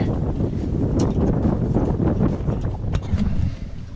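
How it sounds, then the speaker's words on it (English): Wind buffets a sailboat moving at about two knots, a steady, loud, broadband rush that fills the whole clip with no one speaking. "Finally we have wind. We're moving."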